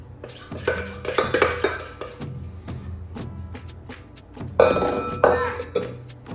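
A spoon spreads Betty Crocker fudge brownie batter across a baking pan, making clinking and scraping bursts in two busy stretches, close and fairly loud, with quieter pauses between them.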